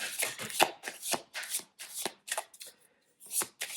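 Tarot cards are shuffled by hand, a quick series of crisp riffling bursts and soft slaps, close and clear with no voice over them.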